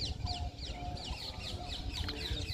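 A pair of myna birds sparring with a parrot: rapid, repeated chirps and squeaky calls over a low, steady background rumble, moderately faint and continuous.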